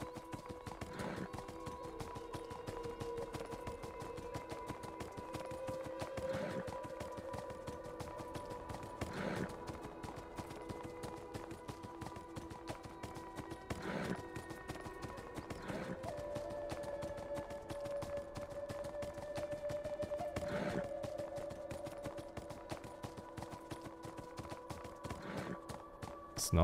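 Horse hooves clip-clop at a slow walk in Beyond: Two Souls, sparse evenly spaced thuds over a sustained tonal game score, faint and steady throughout.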